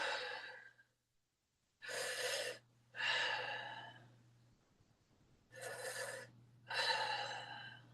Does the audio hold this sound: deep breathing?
yes